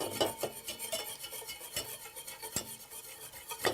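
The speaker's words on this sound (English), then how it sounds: "I'm going to add the instant mashed potatoes. And we're going to whisk it around." A whisk stirs instant mashed potatoes into vegetable stock and coconut milk in a pot on medium-high heat, making a continuous scraping, swishing rasp with soft metallic clinks against the pot.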